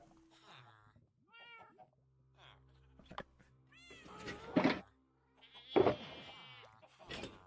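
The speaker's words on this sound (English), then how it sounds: "My oh so loving cat has decided it is attention time" A pet cat meows repeatedly for attention, a string of close, loud, drawn-out cries with short gaps between them, the last few the loudest, with faint thumps in the background.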